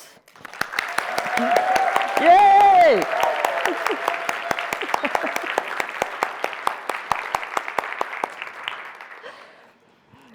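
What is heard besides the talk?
audience applause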